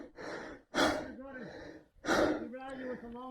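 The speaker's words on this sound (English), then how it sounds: "Can't talk. Must breathe." Heavy, ragged breathing after a hard gravel bike climb: loud gasping inhales and panting exhales in uneven bursts, close to the mic, alone with no other sound.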